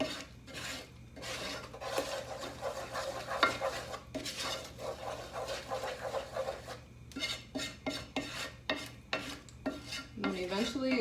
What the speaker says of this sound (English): But just stir it all together.